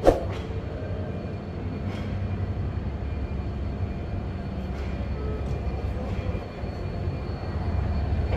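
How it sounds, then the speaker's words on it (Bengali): A train pulling out of Dhaka bound for Chittagong, a steady low rumble and rolling hum heard from inside a coach, continuous and fairly loud with faint clanks, no talk. "পরিশেষে 30 মিনিট লেটে আমাদের ট্রেনটি চট্টগ্রামের উদ্দেশ্যে ঢাকা ছেড়ে যায়।"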